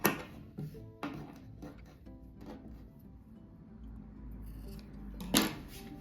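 Scissors snipping thread stitches on a patchwork duck rug, a few sharp, close clicks spaced irregularly over quiet, with a louder snip near the end.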